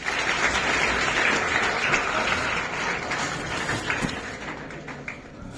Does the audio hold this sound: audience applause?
yes